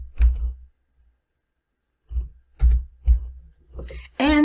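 Short bursts of typing on a computer keyboard, a few clustered key clicks close by, separated by a brief pause of near silence.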